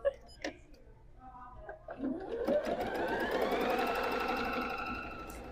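A sewing machine running without a bobbin whirs up from a few starting clicks into a steady, fast mechanical drone that holds and then eases off slightly, close and fairly quiet.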